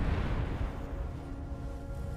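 A dense rumbling roar of distant long-range missile barrages in MechWarrior Online rolls on continuously, low and heavy, with no voices.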